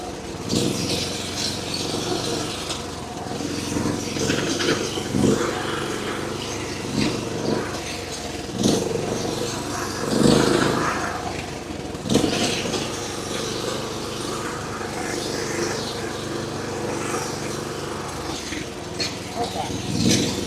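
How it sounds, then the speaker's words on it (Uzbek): A mini tractor's engine runs steadily while its wheels spin on ground covered with freshly spread manure; a medium engine drone with occasional rises in revs continues under frequent nearby talking. "Hozir yerga go'ng sachilganligi sababli traktorning baloni aylanib ketyapti."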